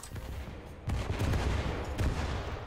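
Missile and gunfire hits in the naval combat game From the Depths, with big frag missiles striking a target: a continuous rumbling barrage of impacts with two sharp louder surges, dense and heavy throughout.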